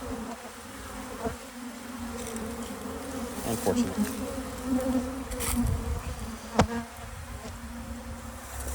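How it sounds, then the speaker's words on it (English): Dense, steady buzzing of many angry bees swarming close by inside a house during a removal, with a brief spoken word partway through. "Man, so many bees."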